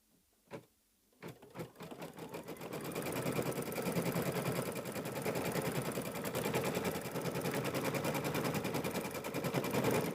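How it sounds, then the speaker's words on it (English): A computerized embroidery machine stitches down a quilt block in the hoop, starting with a few isolated taps before settling into a steady, dense, rapid mechanical chatter that runs loud and continuous to the end, with no talking. "that has been stitched down"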